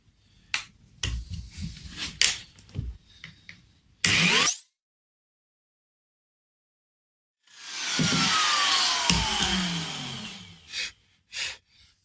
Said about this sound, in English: I've already started routing this pocket to shape with the template